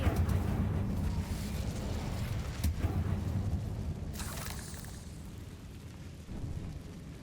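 An Incendio fire spell cast in a Harry Potter video game, a deep rumbling burst that swells at the start, then fades into a sustained roar with a brighter whooshing flare midway, no talking.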